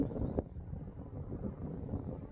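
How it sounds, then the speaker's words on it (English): Wind buffeting the microphone on exposed high ground near a wind farm, a steady low roar with a sharp gust thump early on, no talking. "Getting it windy. We are really high up, obviously."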